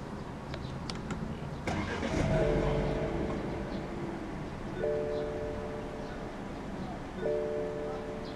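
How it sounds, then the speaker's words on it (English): A 2016 BMW 430i Coupe M Sport (F32) is started by push button: the engine cranks and fires after about two seconds, then settles into a steady idle, with a few soft cabin chimes repeating over it. "Put your foot on the brake and press the start button to the left of the steering wheel."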